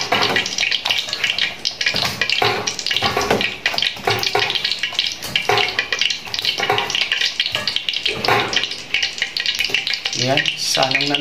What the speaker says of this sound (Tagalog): Ating paghahaluin. Ayan. Halo na.